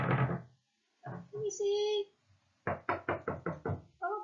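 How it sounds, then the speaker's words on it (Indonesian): Knocking on a door or gate: a quick series of six sharp raps, close and loud, following stretches of a child-like voice talking, with a short whistle-like tone in between. "Akhirnya dia ketok-ketok pintunya."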